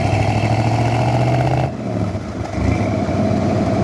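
A 1969 Chevrolet Corvette with a rear-exiting exhaust runs steadily and loudly up close, its engine note holding even and then dipping briefly before picking back up.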